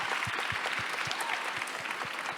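An audience claps at a book fair event, a dense patter of many hands with quick, even beats sustained for a couple of seconds at moderate distance.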